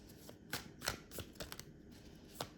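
Soft riffling and snapping of cards being shuffled, several quick bursts in an irregular rhythm, quiet and close.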